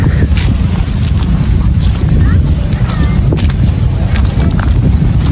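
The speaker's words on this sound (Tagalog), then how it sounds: "Very malamig at mahangin." Strong wind buffets the microphone in a constant low roar, steady and loud throughout, with faint sounds barely audible beneath it.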